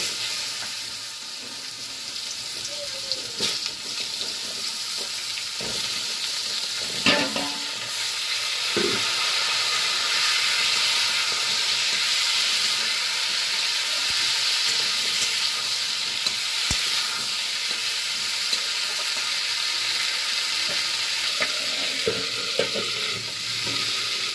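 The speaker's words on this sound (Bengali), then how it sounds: "তেজপাতা জিরে ফোড়ন দিয়ে আমি এবার আলুগুলো আর আলু পটল একসঙ্গে দিয়ে দেবো" Potatoes and pointed gourd fry in a cumin and bay-leaf tempering, making a sustained loud sizzle with scattered stirring scrapes and clinks from the pan throughout.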